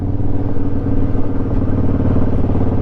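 A Honda motorcycle engine running while the bike is ridden, a loud steady low rumble with a fast regular pulse that holds even throughout.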